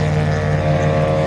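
Idling engine of an AC Cobra recreation sports car at a motor festival, a steady low rumbling drone with firm harmonic tone, held at a constant pitch for a short moment, close and fairly loud.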